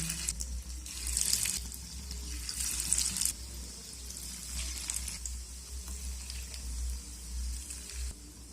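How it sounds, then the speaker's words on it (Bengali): Bread, egg and noodle snacks frying in hot oil in a frying pan, making a steady, close hissing sizzle with bursts of louder crackle and bubbling, alone with no talking. "এখন আমি এই গরম তেলের মধ্যে একটা একটা নাস্তা দিয়ে দেব"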